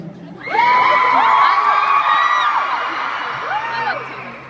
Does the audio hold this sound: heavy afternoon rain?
no